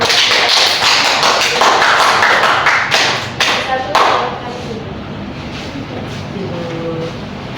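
A classroom of students claps for a group that has just presented, a burst of uneven claps that thins out after about four seconds into quieter room sound with voices.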